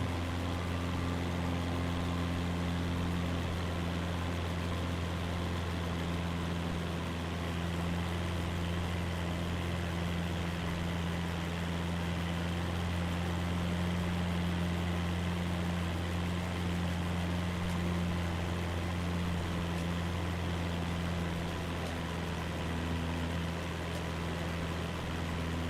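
An aircraft engine in Flight Simulator 2024 holds a loud, steady high-revving drone with a deep constant hum that barely changes across the whole stretch, alone with no talk.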